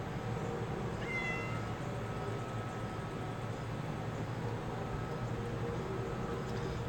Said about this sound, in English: Got this freaking stray cat.